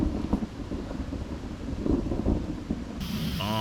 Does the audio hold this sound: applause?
no